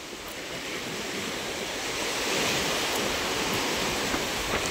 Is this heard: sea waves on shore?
yes